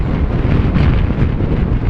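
Strong wind buffets the microphone in a continuous loud roar, gusting unevenly as if rushing past at riding speed on a Yamaha XMAX 250 scooter.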